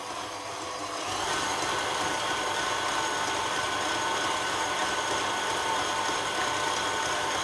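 An electric mixer whips egg whites for a chocolate royal cake at maximum speed, a steady loud whirring drone that rises after the first second and then holds constant without a break.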